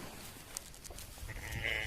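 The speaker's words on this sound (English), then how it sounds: "And we have meat sheep." Meat sheep, ewes kept on a homestead, bleat close by, with a clear bleat rising near the end over a soft barnyard background.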